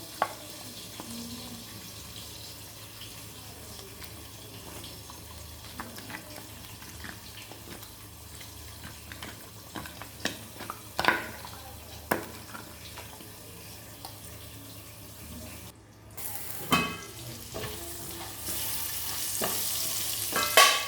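Potato pieces frying in mustard oil in a wok, with a low steady sizzle broken by occasional scrapes and clinks of a stirring utensil, growing louder toward the end.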